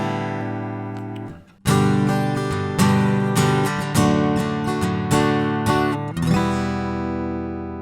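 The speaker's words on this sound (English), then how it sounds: "What you are hearing now is just the piezo pickup over the tone match block." Acoustic guitar heard through its piezo pickup and a tone-matching block on an Axe-Fx II, strummed chords ringing clearly after a brief pause, several bright, full strums close up with long sustain and no talking.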